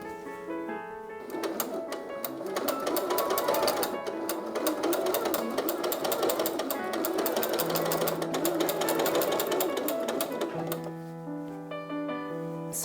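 Sewing machine stitching darts into the back panel of a pair of shorts, a steady continuous mechanical whir running nearly the full length, close and fairly loud with brief pauses at start and end.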